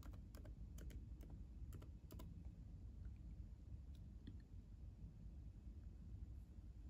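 Password typed on a MacBook M1 keyboard: a quick burst of light key clicks at the start, then a few scattered taps over a low steady room hum, faint and with no talking.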